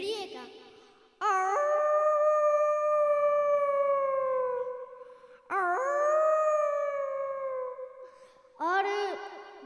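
A performer's voice imitates a wolf howling, three long sustained rising-then-falling howls, loud and close, each separated by a short pause, with no other talk.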